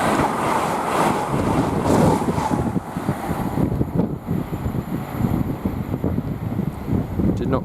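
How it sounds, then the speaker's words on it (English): Strong wind buffets the microphone beside a railway line at West Ealing on the Great Western Main Line, a loud rushing roar that eases slightly after a few seconds but keeps gusting throughout. "a lot of wind"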